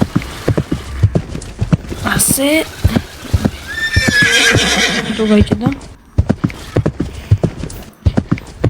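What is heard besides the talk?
horse galloping in Roblox video game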